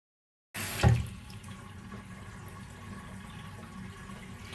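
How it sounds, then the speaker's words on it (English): A tap starts suddenly after a brief silence to fill a bathroom sink for a drain test, with a splashy burst at the start, then a steady, fairly quiet stream of running water. "So we'll fill it up maybe 3/4 of the way, and we'll see how well it drains"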